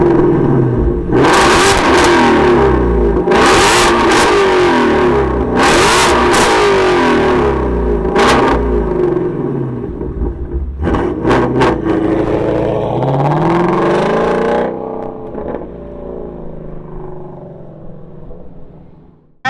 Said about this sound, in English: We're gonna fire up my Shelby and let's go for a little spin.